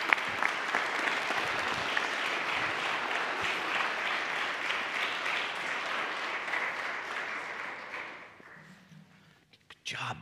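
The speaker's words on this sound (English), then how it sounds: "Would you clap and welcome our newest baptized member?" Church congregation clapping to welcome a newly baptized member during Sunday worship, a full steady round of applause that fades out near the end before a voice briefly speaks.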